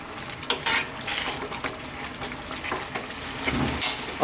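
Brown stew chicken in a pan gives a steady sizzle and simmer while a spoon stirs now and then, scraping and clinking against the pan in irregular strokes close by.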